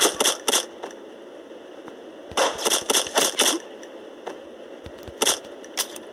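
Gunshots in the video game Mr. Wolfun, sharp cracks fired in short bursts of three to five, with brief pauses between volleys, loud and close with no voices over them.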